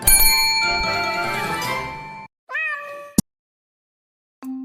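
An animated cat in a children's read-aloud story meows, first in a long, loud, wavering cry, then in two shorter mews separated by silence, with a bright bell-like ding in between.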